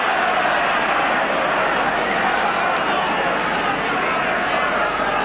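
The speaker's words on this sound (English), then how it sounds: "The big chant coming, Great Britain, from the crowd." Large rugby league test crowd chanting "Great Britain" during a 1985 Kiwis versus Great Britain match, a dense, loud, continuous roar of massed voices filling the stadium for the whole stretch.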